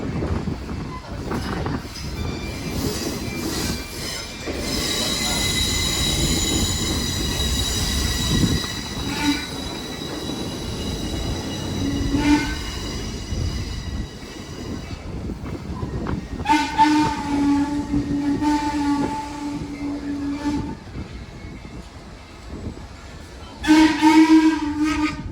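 A steam-hauled passenger train passing on a sugar railroad: loud continuous rumble and clatter of cars, with whistle blasts and sustained wheel squeal in the later part.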